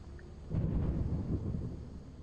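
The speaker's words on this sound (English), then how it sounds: "And it was stormy, of course." Deep rumbling thunder from a storm in the video game Lethal Company, a low rolling roar swelling after a half-second and lingering through the rest, heavy and continuous with no voices.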